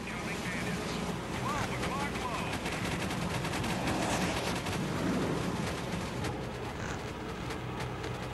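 Constant gunfire and explosions from B-17 and B-24 bombers in the video game Gunship Sequel make a dense, unbroken barrage, with rockets mixed into the din throughout.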